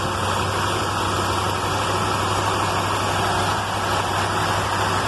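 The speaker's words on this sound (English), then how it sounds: "I'm guessing she should be around there on high idle." An old truck engine runs steadily on high idle, a continuous loud droning hum with a low throb and no variation, close to the microphone and with no voices.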